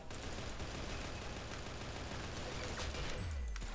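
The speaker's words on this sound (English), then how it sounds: "Shooting at me from behind." Rapid gunfire in a Roblox shooter game, a dense, continuous burst of shots with a faint noisy background and no talking.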